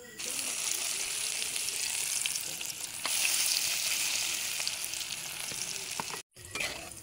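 Banana blossom fritters (ukoy) sizzle steadily in hot oil with a continuous bright frying hiss, briefly louder around the middle, broken by a short gap near the end before the sizzling resumes.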